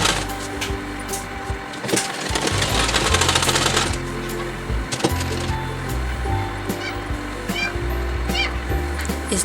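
A sewing machine stitches a blouse sleeve, a continuous mechanical whir with rapid needle clatter running throughout, loudest in a steady burst near the start and then carrying on at an even pace.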